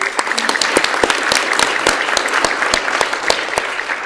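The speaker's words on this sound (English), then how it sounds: "Let's show our thanks with a round of applause generally for everybody." Audience at a community action assembly on mental health, police and the city budget applauds steadily, dense clapping with sharp individual claps standing out, close and continuous throughout.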